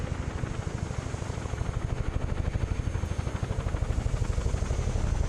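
A Chinook helicopter in Microsoft Flight Simulator gives a loud, continuous rotor drone with a fast, even pulsing beat, steady throughout with no voices.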